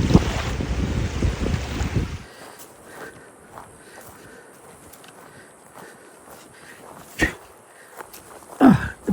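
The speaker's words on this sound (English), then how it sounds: "Oh, that wind is chilly though." A chilly wind at a shallow lakeshore in Pictured Rocks National Lakeshore buffets the microphone in a loud, rough burst for about two seconds, then drops to a quiet outdoor hush with a few faint knocks.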